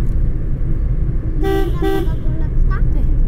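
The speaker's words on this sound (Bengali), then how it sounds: "হর্ন দিও না" A car horn gives two short honks in quick succession, loud against a steady rumble of road traffic and engine noise on a drive near Chilapata forest, with people talking in the background.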